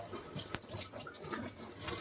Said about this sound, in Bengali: ভালো করে বেছে নিচ্ছি, বেছে নিয়ে এই ধুচ্ছি।